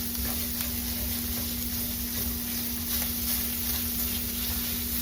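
Sausage browning in a cast iron skillet for old-style sausage gravy, a steady close sizzle and crackle that runs without a break beneath a constant low hum.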